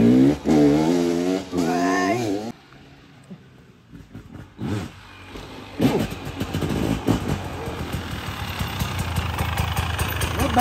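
A 2024 motorcycle engine runs during a riding training session, idling and revving in uneven bursts that build toward a louder, busier stretch. Voices speak over the engine near the start.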